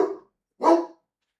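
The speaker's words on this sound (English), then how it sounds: "My dog be barking." A dog barks twice nearby, a short bark followed by a louder, fuller one after a brief pause, with silence between and after.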